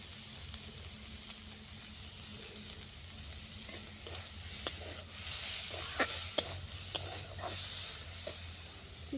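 Red amaranth greens with poppy seeds being fried and stirred in a pan over a clay stove, giving a steady close sizzle with intermittent sharp crackles and scraping stirs, no talk.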